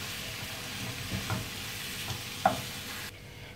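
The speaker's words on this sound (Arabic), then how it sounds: "رح خلي التوم والحر الخشن يغلفوا كل حبة من حبات القريدس." Shrimp frying in a pan with garlic and coarse chili, a steady sizzle with a few sharp stirring clicks, fairly close, ending in a quieter tail.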